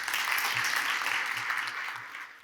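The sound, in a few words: audience applause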